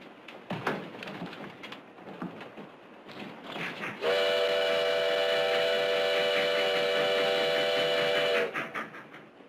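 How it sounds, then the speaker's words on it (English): Clattering rhythmic rumble of a moving train, then a loud steady whistle blast for several seconds before the clatter returns. "The train goes so fast."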